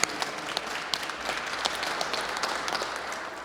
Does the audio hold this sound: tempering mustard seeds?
no